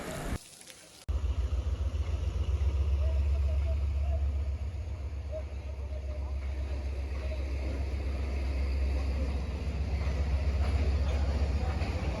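Lahore railway station gives a steady, loud low rumble of trains and platform ambience after a brief quieter opening, with indistinct voices mixed in.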